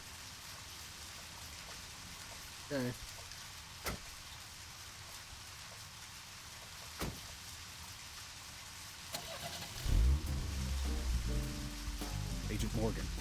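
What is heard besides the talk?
rain falling in the video game Deadly Premonition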